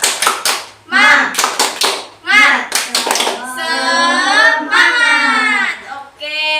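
A primary school class performs the rhythmic 'tepuk semangat' clapping chant, with bursts of sharp group claps in a patterned beat followed by children's voices chanting together, loud and close.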